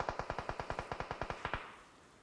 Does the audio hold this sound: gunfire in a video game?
yes